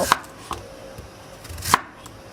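A knife chops through daikon radish on a cutting board, a few sharp, separate thuds with short pauses between them, close and fairly clear.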